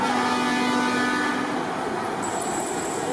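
Loud, steady truck horn tones blaring over a continuous rumble of heavy truck traffic at a trucker convoy protest, with a higher horn joining partway through.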